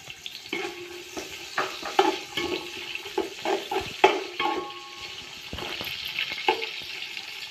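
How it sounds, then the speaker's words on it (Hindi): Onions fry in oil for a vegetable biryani, a steady close sizzle with repeated spoon scrapes and stirring knocks against the pan. "अब मैं यही तेल में प्याज फ्राई कर रही हूँ।"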